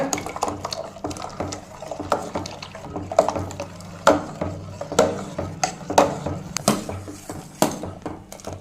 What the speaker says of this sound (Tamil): இப்போ தண்ணி வந்து நல்லா கொதிக்கிற டைமில் இருக்குதுங்க